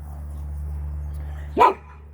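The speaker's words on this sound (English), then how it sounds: "Cody, you shouldn't have barked to begin with." A single short bark from old dog Cody, close and fairly loud, rising out of a steady low hum near the end.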